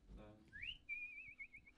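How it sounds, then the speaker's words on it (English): A clear whistled melody, a rising slide into a sustained tone followed by wavering notes, preceded by a brief low murmur. "That's some beautiful whistling right there."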